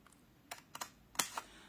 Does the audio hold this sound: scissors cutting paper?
yes